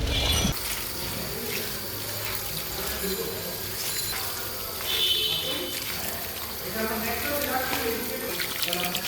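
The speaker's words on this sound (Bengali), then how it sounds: "আমার পাতাকপি ধোয়া শেষ।" Tap water running while cabbage is washed, a continuous splashing gush with small clatters, steady and close, with a person speaking over it.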